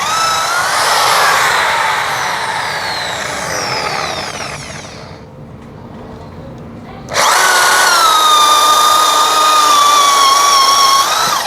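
A DongCheng DZJ02-13 wall drill with a 13 mm bit runs loud and close with a high whine, bores for several seconds, drops briefly when the load eases, then surges back at full power.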